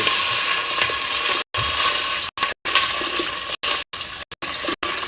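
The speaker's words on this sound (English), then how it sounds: "Just pour enough water to cover it." Water poured into a hot pan over browned food hisses and sizzles loudly and continuously, a close rushing roar broken by several abrupt cuts.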